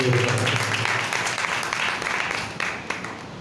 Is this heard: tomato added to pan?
no